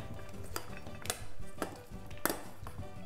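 Chunks of potato and onion clatter into a baking dish in a home kitchen, with several sharp knocks and clinks of food and utensils against the dish over a steady background.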